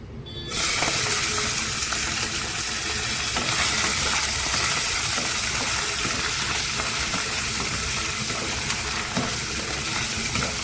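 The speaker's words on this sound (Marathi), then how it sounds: "आता मी हे चरबी तेलामध्ये जरा फुलवून घेणार आहे।" Mutton fat fries in hot oil with a loud, steady, close sizzle that starts abruptly and runs unbroken throughout, with no voices.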